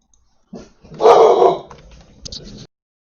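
A puppy barks and growls in a short, close burst, with one loud yelp-like bark followed by softer rumbling and a final small yap.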